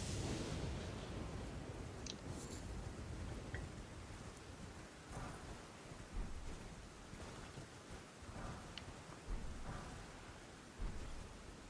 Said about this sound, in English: Why is there angry lightning everywhere?